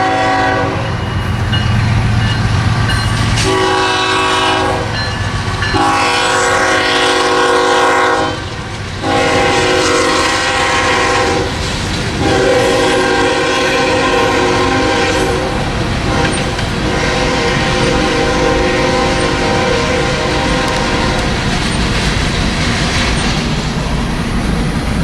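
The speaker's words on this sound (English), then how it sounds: "It was a BNSF H train as they passed me going under I-10" A loud BNSF freight train rumbles past up close near Houston, passing under I-10, with steady clattering, its horn blaring in several long blasts over the roar.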